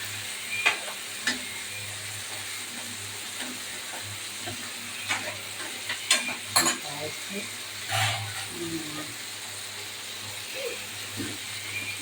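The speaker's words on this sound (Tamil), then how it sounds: "அதனால் கீழே மட்டும் வதங்கிட்டு அப்புறம் கிண்டிடுவோம்." Turmeric masala for a taro root sambar sizzles and hisses steadily in a pan, with occasional sharp scrapes and clinks from stirring, close by and without speech.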